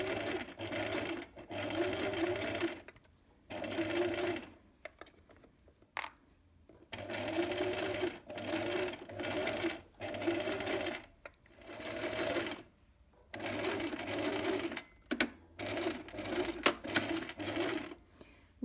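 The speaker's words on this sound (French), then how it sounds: "Vous allez coudre l'ourlet en piquant au point droit à 2" A sewing machine runs a straight-stitch hem on fabric in repeated bursts of rapid, even mechanical whirring, each lasting one to two seconds with short pauses between, close and clear.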